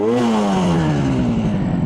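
A 1967 Yamaha YR1 motorcycle engine runs loud and close while warming up, its buzzing tone sliding slightly lower as the revs settle toward idle.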